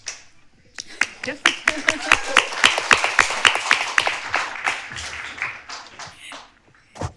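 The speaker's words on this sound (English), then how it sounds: "Thank you for this premature applause." A small audience at a book reading breaks into brief applause, a quick flurry of sharp, distinct claps that builds and fades within a few seconds, with some talk around it.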